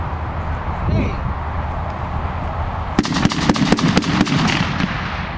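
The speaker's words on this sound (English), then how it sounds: "Gunfire apprehension phase." A quiet, noisy stretch gives way to a rapid series of sharp gunshots, about eight cracks in quick succession, loud and fairly close, during a police dog decoy apprehension exercise.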